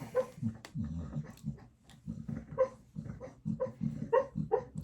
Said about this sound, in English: if you hear that, that is my dog sleeping now